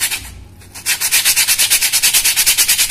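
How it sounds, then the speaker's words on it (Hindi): Hand sanding with 80 grit sandpaper, scuffing a sleeper's surface before gluing, makes a close, steady run of rhythmic rasping back-and-forth strokes after a brief quiet start. "ये 80 नंबर रेगमाल से इसको सरफेस को"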